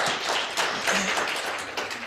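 Conference audience at a Women in Sport event applauding: a steady, dense wash of many hands clapping at an even level for about two seconds, with no voices over it.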